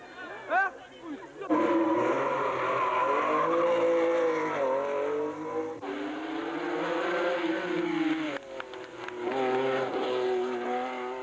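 Renault 5 Turbo rally car engine revving and shifting up and down at close range, one loud engine note rising and falling for most of the stretch, with brief tire-squeal-like bursts and a voice talking over it in places.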